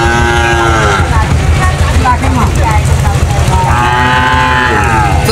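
Cattle at the Banani cow market in Bogura low and moo repeatedly in long drawn-out calls, loud and close, over a dense hubbub of people talking and market noise.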